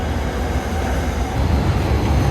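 A passing train rumbles loudly alongside a moving train departing Bangkok, a steady close roar of wheels and cars that swells slightly toward the end, with no talking.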